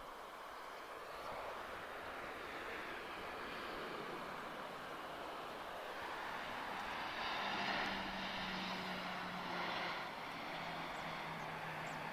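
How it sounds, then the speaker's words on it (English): A Ryanair Boeing 737-800 arriving at Lisbon airport produces a steady, broad jet roar that swells gradually, with a low engine drone emerging midway, heard from a distance outdoors. "it's going to be a Ryanair, guys. 737-800 arriving from Rome."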